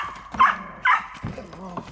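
Aging dog, about ten and a half years old, giving two short barks or yips close by, with a person speaking around them.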